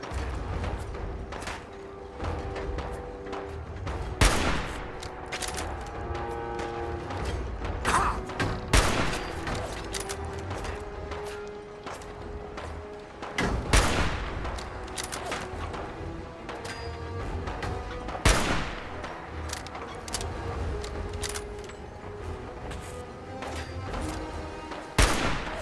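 Enemy gunfire in Fallout 4, a dense, sustained exchange of shots with repeated bursts and sharp loud reports every few seconds, continuous and layered throughout.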